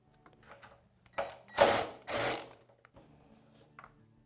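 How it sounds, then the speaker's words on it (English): A hand tool with an 8mm socket spins out a fuel tank bolt on a Honda Transalp XL750 in two short whirring bursts, close and moderately loud, with faint ticks and clicks before and after. "we're using our 8mm socket to remove that bolt"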